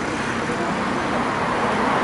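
Heavy road traffic on a busy city street in Japan, a steady loud wash of car and vehicle noise with no distinct passes standing out and no talking.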